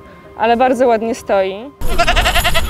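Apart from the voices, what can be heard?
goat bleating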